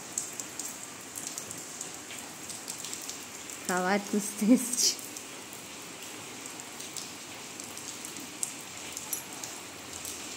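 Steady rain falls around a house with an asbestos roof, a continuous soft hiss of drops running through the whole stretch, with a short burst of nearby speech and small sounds near the middle.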